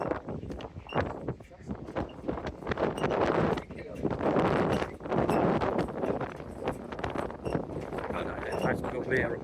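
Gusty wind at an open-air beachfront sky bar buffets the microphone, with loud rushing surges that rise and fall across the whole stretch, and a voice can be heard talking under it.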